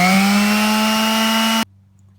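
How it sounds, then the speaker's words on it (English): Orbital sander fitted with high-grit paper grinding rivet buttons off a sway bar link on a 2009 Honda Pilot, a loud steady close whine that cuts off abruptly, leaving a faint hum. "I'm just going to use an orbital sander with some high grit on it. I'm just going to grind those buttons off."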